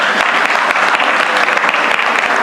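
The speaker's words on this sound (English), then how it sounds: "So if you clap, keep clapping" Audience applauding at an inspiring speech, steady close clapping from a large crowd sustained evenly across the brief moment.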